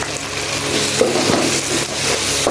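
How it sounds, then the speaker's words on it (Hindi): Ginger, garlic and green chili paste fries with tomatoes for a spicy masala kaleji, a loud, dense sizzle close up with stirring scrapes and wet crackles throughout. "अब हम इसमें डाल देंगे अदरक, लहसुन और सब्ज़ मिर्चों का पेस्ट"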